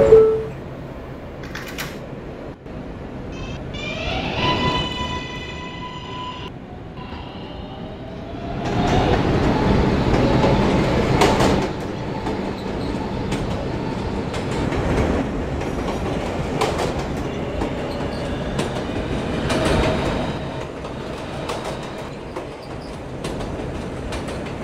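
An R143 subway train runs on a Roblox transit line at a steady rumble with clattering wheel noise, swelling passages and brief squeals, alone without speech.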